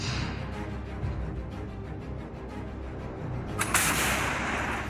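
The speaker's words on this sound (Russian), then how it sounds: "показана работа 203-миллиметровых самоходных артиллерийских установок «Малка»" A 203 mm Malka self-propelled artillery gun fires, with a sharp, heavy blast bursting out of a constant rumbling background of field noise. The report is loud and rings out in the open.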